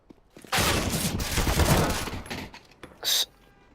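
A quick fusillade of gunfire in Counter-Strike: Global Offensive, including a shotgun, loud and dense for about two seconds, then a short second burst after a brief gap.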